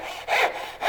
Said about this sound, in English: Set the saw in, move it over to the gap closes.